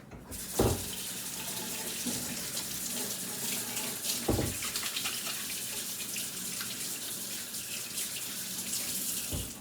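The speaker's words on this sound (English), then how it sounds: "So let me wash my hands really quickly." Hands are washed under a running kitchen tap, water streaming steadily into the sink with a couple of brief splashy bursts as the hands move through the flow, close and fairly loud, with no talking.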